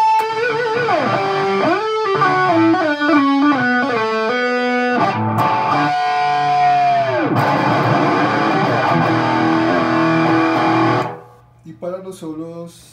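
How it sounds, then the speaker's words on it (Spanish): Ibanez electric guitar run through Rockerbox distortion, delay and booster pedals, playing a loud saturated solo of sustained bent notes with trailing echoes before cutting to a few quieter notes. "Solos estoy usando el Ibanez conectado al crash de Rockerbox y el delay de Rockerbox también."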